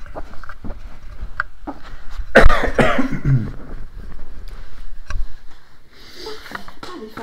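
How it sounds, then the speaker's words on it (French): Several people cough in a room, a cluster of harsh, loud coughs mid-clip followed by scattered smaller coughs, throat clearing and sniffs. "on va tous tousser"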